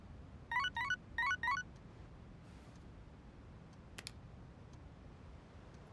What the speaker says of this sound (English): I've got a text message from Bebe.